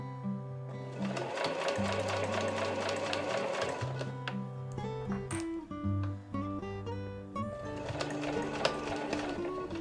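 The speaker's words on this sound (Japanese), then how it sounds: "端から端までを1センチ縫いましょう。" A sewing machine stitches a one-centimetre seam on the lining of a fur tote bag, a close, steady mechanical whirring with a short pause midway before it resumes, and no talking over it.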